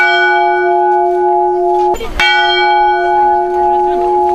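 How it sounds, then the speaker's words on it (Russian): Church bells ring out for the Radunitsa feast at a cemetery in Dezginzha, sustained tonal peals with one sharp clanging strike midway, loud and resonant as the tones hang and slowly decay. "Звон колоколов извещает умерших душ о наступившем празднике."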